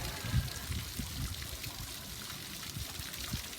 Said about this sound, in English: There's a water feature in the middle of the outside bit of Hayes Garden Centre.